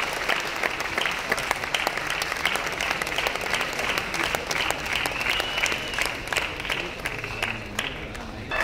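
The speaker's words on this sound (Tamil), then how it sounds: "உங்க எல்லாருடைய கரகோஷம் இவங்களுக்கு தேவை." Audience applause at the Chennai Film Festival 2019, a steady crowd of many hands clapping continuously at moderate volume for the full stretch, with no voices rising above it.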